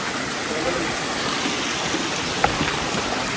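Forest stream in a wilderness sanctuary, steady broadband rushing water close by with no breaks, a faint voice briefly in the background.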